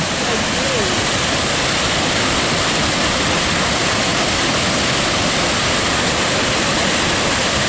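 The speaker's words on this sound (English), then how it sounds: "I always give you way too much video of waterfalls" A waterfall along the Lake Superior scenic drive roars in a dense, constant, close wash of falling water that never lets up.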